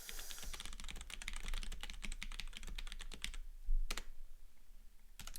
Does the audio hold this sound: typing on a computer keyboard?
yes